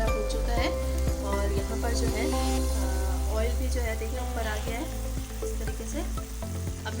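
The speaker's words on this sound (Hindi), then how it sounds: "फ्लेम को थोड़ा तेज़ कर लीजिए और इसको अच्छे से भूनने के लिए रख दें" Masala paste fries in oil in a pan for an aubergine and potato curry, a loud constant sizzle with repeated stirring scrapes, while a voice speaks over it.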